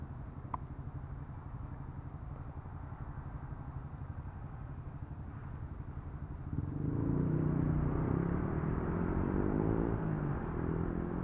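A motorcycle riding through city traffic in Metro Manila, its steady engine drone swelling noticeably louder partway through as it speeds up.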